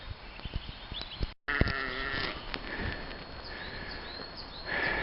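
Sheep bleat intermittently in open spring countryside around Sheep Hill near Laneshaw Bridge, a few calls rising over steady background noise, with one brief dropout partway through.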